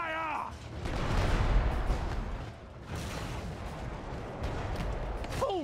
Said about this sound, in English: Aim the cannons!